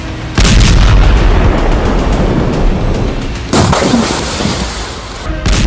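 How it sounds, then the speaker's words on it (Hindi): Israeli bombs and artillery hitting the Lebanese village of Kfar Kila, heard as two loud, deep explosive booms with long rumbling tails, close and heavy, with no talk over them. "यह लेबनान का गांव कफार किला है और यहां इजरायल ने जमकर बम बरसाए।"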